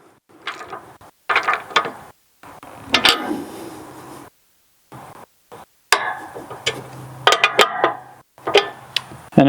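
Bolts on a hood guard for a Kubota SVL97-3 compact track loader are tightened with a ratchet, giving scattered bursts of clicking and metallic handling noise broken by gaps of silence, close by.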